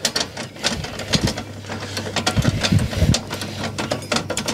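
A wrench ratchets down the stabilizer jacks on a Starcraft popup camper, giving close, steady mechanical clicking and grinding with a low hum underneath and rhythmic bursts as the crank turns.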